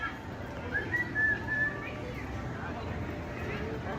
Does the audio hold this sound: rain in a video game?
no